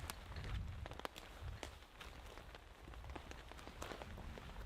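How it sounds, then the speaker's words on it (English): Rain drips steadily in a soaking wet forest after weeks of rain, scattered close taps of drops falling over a soft continuous patter, with occasional low thuds like footsteps. "This is the 3rd week straight of solid rain. There's water literally dripping from everything."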